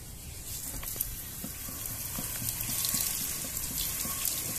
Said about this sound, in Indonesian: kita tes pakai keran air saja.